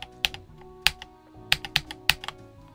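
Keys on an Ajazz AK873 three-mode TKL mechanical keyboard are typed in a close, sparse series of crisp clacks, some landing as quick double strikes, with no talking.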